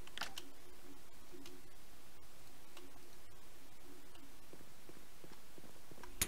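Typing on a new computer keyboard during a shooter game, faint scattered key clicks in irregular bursts over a low steady background hum.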